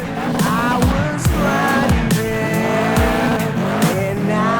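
Scion FR-S Rocket Bunny drifting in the Project Cars racing game, with engine notes that rise and fall and long tire squeals repeating through the run, loud and close, with no voices.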